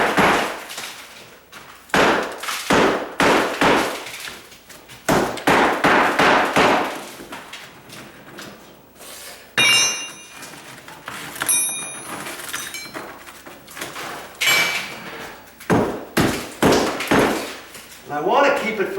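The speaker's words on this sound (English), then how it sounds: "now I can beat down on it because it's just mortar and break it in some chunks" Repeated hammer blows strike a mortar counter sub base that once held tile, breaking it into chunks. The impacts are loud and close and come in irregular bursts, with someone talking in between.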